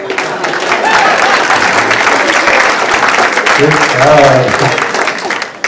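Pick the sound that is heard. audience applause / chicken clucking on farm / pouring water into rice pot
audience applause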